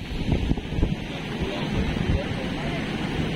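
Strong wind roars against the microphone with surging surf beneath it as Super Typhoon Pepito hits the coast at Dinahican, Infanta, Quezon. The noise is loud and continuous, and people talk throughout.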